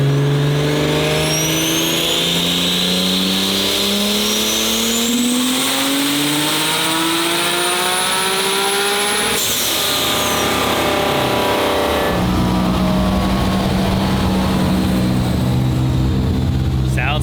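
A 1200 hp Toyota Supra with a 3.2-litre Dart 2JZ engine revs hard toward 9000 rpm through several rising gear pulls, loud and close, with a turbo whine and shifts between surges.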